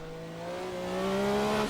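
Group C race car engine in a VR racing sim holding a steady, rising drone as revs climb smoothly, loud and close throughout with no voices.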